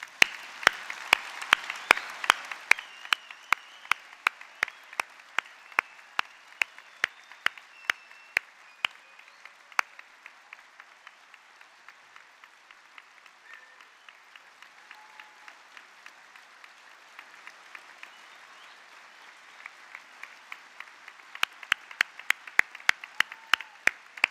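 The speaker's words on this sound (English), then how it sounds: "everyone here to join me with a huge round of applause" Graduates stand as a degree ceremony hall in Harrogate erupts in long, sustained applause, many hands clapping evenly for over twenty seconds, briefly thinning midway before swelling again with sharper, closer claps near the end.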